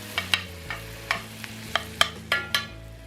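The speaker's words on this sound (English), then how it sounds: "Getting that butter melted down in there. In that hot pan." Butter melts in a hot pan alongside chopped garlic for a steakhouse-style tri tip roast, giving a soft sizzle broken by repeated scraping and stirring taps, close and fairly quiet, with no voices.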